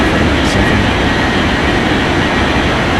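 An airliner roars on takeoff in an air traffic control game, a steady loud jet-engine rumble and whine holding constant throughout, with a faint brief hiss near the start.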